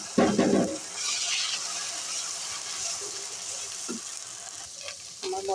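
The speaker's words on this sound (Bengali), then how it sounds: "এখানে আমি কিছু আদা, জিরা, পেঁয়াজ, রসুন বেটে রেখেছি, সেটা দিয়ে দিলাম।" A ground paste of ginger, cumin, onion and garlic hits hot mustard oil with a sudden loud sizzle, then settles into a continuous frying hiss with occasional stirring knocks.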